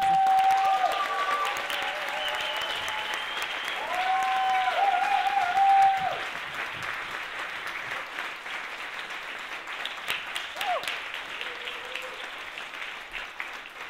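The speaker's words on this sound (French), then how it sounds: "Je vous demande vraiment beaucoup d'applaudissements pour Madame Salvia Bad Trip" Cabaret audience clapping for a burlesque performer: applause swells for the first six seconds, then thins and fades while a speaking voice carries over the remaining claps.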